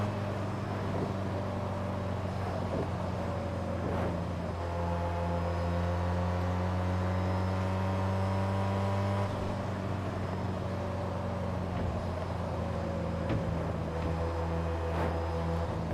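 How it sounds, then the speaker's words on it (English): Car engine in the racing game Test Drive Unlimited 2 on overrun, a steady droning tone that holds, then rises and falls, with a drop in pitch partway through. It is continuous and close, with no talking. "Oh yeah, the overrun actually sounds really nice. It still does not sound like a 6-cylinder."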